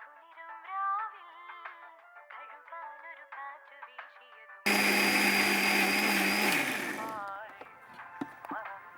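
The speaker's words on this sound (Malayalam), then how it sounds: "നമുക്കിനി മിക്സി അരയ്ക്കാം" An electric mixer grinder (mixie) grinds a vegetable curry paste for Chettinad curry, a loud sudden whirring roar cutting in after speech and running steadily for a couple of seconds before winding down as talk resumes.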